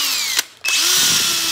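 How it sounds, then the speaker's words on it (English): A power drill chews broken wooden dowels out of an antique table, whining loudly and steadily, briefly stopping and then revving back up at close range, with no talk. "Just chew it out of there as best I can with the drill"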